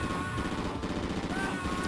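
Rapid gunfire and explosions from a Metal Slug-style run-and-gun game on the Nintendo DS, a dense, continuous burst of shots and blasts filling the whole stretch at steady loudness with no talk.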